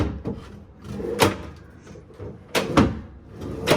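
Drawers in a Grand Hyatt San Francisco hotel room are pulled open, giving two or three close, sharp wooden knocks and slides separated by brief quiet.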